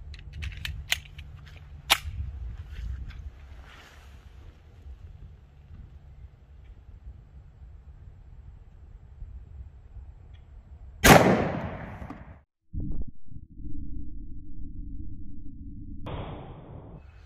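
A 5-inch Colt Delta Elite 1911 fires 10mm Sellier & Bellot XRG 130-grain rounds outdoors: a few sharp distant-sounding cracks early on, then one loud close blast followed by a lingering hum.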